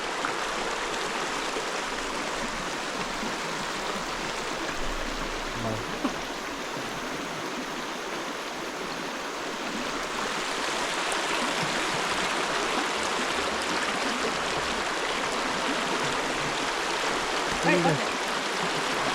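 Steady rushing of a cold stream in the Vagamon pine forest, continuous and fairly close, with faint voices briefly audible beneath it.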